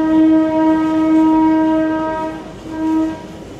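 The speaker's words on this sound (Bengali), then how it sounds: "আমাদের ট্রেন পৌঁছে গেল ঘুম স্টেশন।" The Darjeeling toy train arrives at Ghum station, its loud steady horn sounding close for about two seconds, then blowing again in a shorter blast after a brief pause, over low rumbling rail noise.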